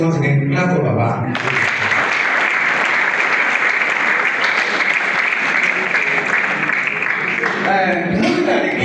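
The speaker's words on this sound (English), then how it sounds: "Please once again, clap for Baba." An audience claps through most of the span at a grand ground-breaking ceremony for an entrepreneurship center at Yaba Tech, with loud, dense, steady applause and a voice over the start and end.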